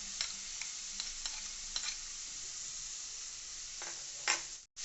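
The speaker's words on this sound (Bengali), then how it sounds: "আদা বাটা দিয়ে দেখছেন একটু নেড়ে চেড়ে" Ginger paste and green chillies being stirred in a frying pan, a soft steady sizzle broken by light rhythmic taps and scrapes of a spatula, fairly quiet and close.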